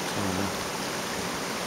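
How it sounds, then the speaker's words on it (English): A creek flows steadily outdoors near the root ball of a tall tree, a continuous broadband wash of running water close by, with a brief low hum at the start. "That's the creek"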